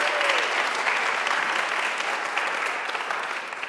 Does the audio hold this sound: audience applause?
yes